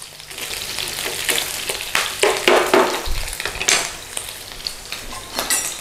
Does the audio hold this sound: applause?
no